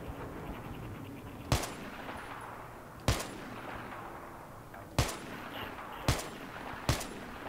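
Battlefield 3 gunfire: five sharp, separate shots ring out at irregular intervals of one to two seconds, each with a short echoing tail, over a low background rumble.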